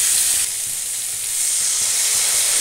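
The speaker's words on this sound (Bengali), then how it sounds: "এবার আমি জল দিয়ে দেবো।" Water poured into a pan of mango pieces fried with salt and turmeric for a sweet-sour chutney raises a loud, steady hiss and sizzle that dips briefly, then swells again.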